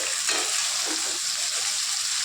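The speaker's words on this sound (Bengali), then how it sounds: "এদিকে ফুলকপিগুলো ভাজা হয়ে এসেছে," Steady crackling sizzle of cauliflower frying in hot oil, close and continuous, with faint stirring sounds and no voices.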